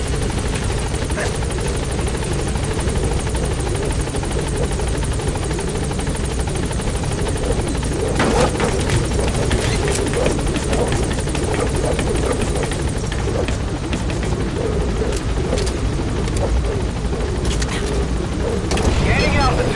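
The Pequod helicopter lifts off in Metal Gear Solid 5, its rotor a loud, dense, continuous thrum that swells as it climbs, with a voice heard over the noise.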